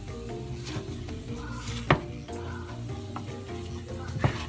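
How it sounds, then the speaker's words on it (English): Eggs for an omelet sizzle steadily in a hot pan while being stirred, with a constant frying hiss broken by a few sharp clicks of a utensil against the pan. "Let me turn it up a little bit. Get these eggs cooking."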